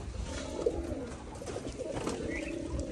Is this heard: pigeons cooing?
yes